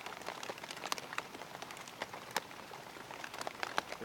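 Rain falling during a fishing trip for climbing perch, a steady patter of drops striking surfaces with scattered sharper taps, close and moderately loud, with no talking.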